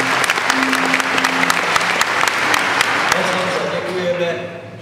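A concert audience applauds a bandleader of 55 years at a performance, loud, full clapping with distinct sharp claps standing out, fading toward the end as a voice begins speaking.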